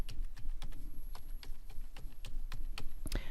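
Steady run of computer keyboard keystrokes as every letter is typed in turn, evenly spaced clacks close to the mic over a constant background hiss, ending with a slightly louder tap.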